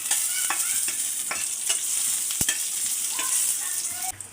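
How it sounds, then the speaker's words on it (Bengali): Dry red chillies fry in a pan with a steady, close sizzle, broken by several sharp clicks and scrapes as they are stirred, no talking. "এখন হচ্ছে শুকনো মরিচগুলো ভেজে নেব।"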